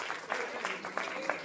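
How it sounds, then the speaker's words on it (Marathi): An audience at an event claps in a short burst of scattered, moderately quiet applause with distinct individual claps, while speech is also present. "जोरात टाळ्या वाजवा"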